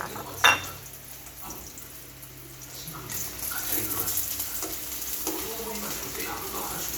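Dried fish (tuyo) frying in a pan, a steady crackling sizzle that grows louder after a few seconds, with a sharp clink near the start and faint background noise.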